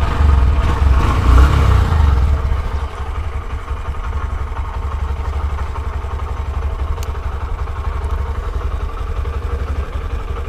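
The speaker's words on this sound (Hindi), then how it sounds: "तो बाइक को स्टार्ट भी कर लेते हैं।" A new Honda Shine 125 motorcycle starts with a loud low rumble, then settles into a steady, close idle that carries on without a break and with no talking.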